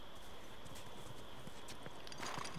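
Horse hooves clip-clop in a steady walking rhythm in The Last of Us Remastered, close but fairly quiet over a constant background hiss, with no talk.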